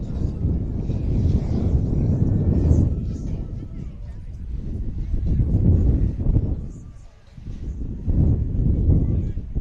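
Wind buffets the microphone at a high school baseball game, a low rumbling roar that swells and dips in gusts, nearly dropping out briefly before surging back, under a commentator's talk.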